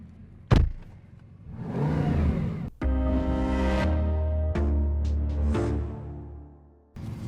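A Bugatti Chiron Super Sport 300+ engine sounds in bursts: a sharp thump, a rising rev, then a deep sustained rumble broken by short blips and thuds, fairly close with no talk.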